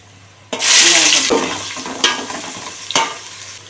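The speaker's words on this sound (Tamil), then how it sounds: "ஒரு கொத்தமல்லி எல்லாமே போட்டு இது வதக்கிக்கலாம்" Mint and coriander sautéing in a pan for mushroom biryani, a loud burst of sizzle as the greens hit the hot oil, then fading with a couple of sharp stirring scrapes.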